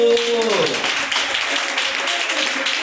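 In a Brazilian Pentecostal church service, the congregation breaks into loud, sustained applause. A voice trails off at the start, then thick clapping fills the room without a break.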